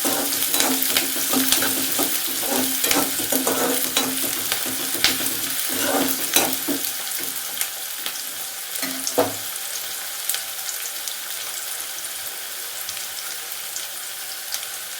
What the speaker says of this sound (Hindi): प्याज को भून लेंगे।